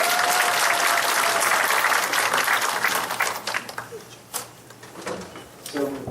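An audience at a televised education talk show applauds to welcome a speaker, with a full burst of clapping for about three seconds that thins into a few scattered claps and stray noises.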